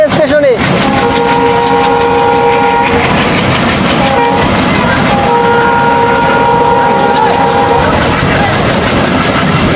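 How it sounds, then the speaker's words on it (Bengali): A commuter train rolls loudly through Gandaria railway station in Dhaka, with long horn blasts sounding twice over the steady clatter of wheels on rails. A person speaks over the noise. "হুইসেল বাজিয়ে আমাদের ট্রেনটি চলছে ঢাকার ভিতর দিয়ে।"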